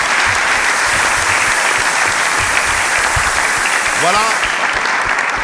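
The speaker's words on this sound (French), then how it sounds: "On va applaudir très fort pour mes invités." Studio audience applauds guests on a French TV variety show, steady loud clapping throughout while a presenter speaks briefly over it near the end.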